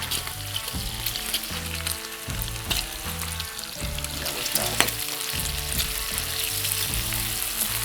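Jalapenos frying crisp in hot oil, a dense continuous sizzle and crackle with steady stirring, close and loud, with no talking.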